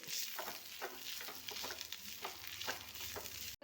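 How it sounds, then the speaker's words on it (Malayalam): Chicken with garam masala and pepper stirred and mixed in a sizzling frying pan, a steady loud fry hiss with rhythmic scraping strokes of the spoon, close up, ending with a brief cutoff and no speech. "എടുത്തിട്ട് നല്ലപോലെ ഇളക്കി യോജിപ്പിക്കാം"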